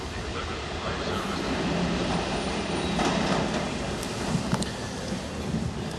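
A train pulls into a station platform on a service to Ayr, giving a steady broadband rumble with faint squeals and clanks throughout six seconds, fairly close and continuous.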